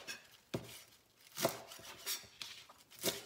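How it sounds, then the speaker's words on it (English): A knife chops ramps roughly on a cutting board at home, giving several close, distinct blade strikes in an uneven rhythm, each a short crisp thud-and-tap with quiet gaps between. "I'm just going to chop this up roughly."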